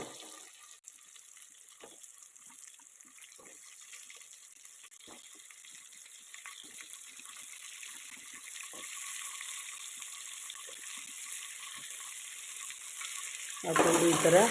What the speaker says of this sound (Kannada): ಸೊ ಇದಾದ ಮೇಲೆ ಕಟ್ ಮಾಡ್ಕೊಂಡಿರೋಂಥ ಮೂಲಂಗಿ ಹಾಕೋತಾ ಇದ್ದೀನಿ ನಾನು